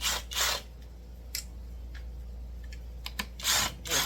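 Socket wrench scraping and ratcheting on a McCulloch Super Pro 125 chainsaw: short rough rubbing bursts at the start and end, with a few faint clicks and taps in between over a low steady hum.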